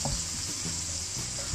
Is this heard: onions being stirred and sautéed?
yes